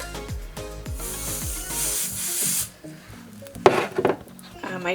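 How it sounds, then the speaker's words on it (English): A sustained hiss of temporary spray adhesive from an aerosol can for about two and a half seconds, with voices and light clatter in the background. "I'm going to take some temporary adhesive."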